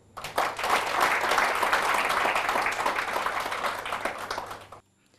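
An audience at an official ceremony involving the first lady of Côte d'Ivoire breaks into sustained applause, thick, even clapping that swells quickly, holds for about four seconds and then stops abruptly.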